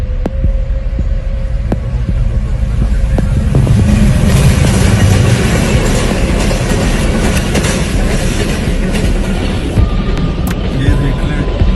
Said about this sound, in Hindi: और ट्रेन गुजरने लगी है।